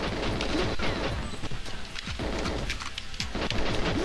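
A grenade blast in GoldenEye 007 on the Nintendo 64, a dense, continuous rumble of explosive noise lasting throughout, with repeated booming bursts layered over each other and no talking.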